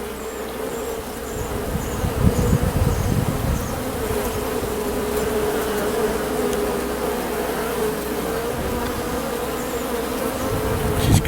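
Honey bees swarm and buzz steadily from an open hive during an inspection, a dense continuous drone close by that holds at an even level throughout, with a few brief higher whines from individual bees passing near.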